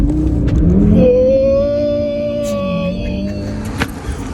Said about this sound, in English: put the car in drive, right foot on the gas